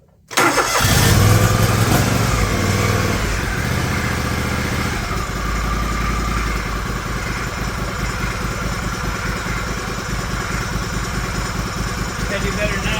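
John Deere LX178 lawn tractor engine cranks and catches on choke, then settles into a loud, steady, slightly uneven idle close by.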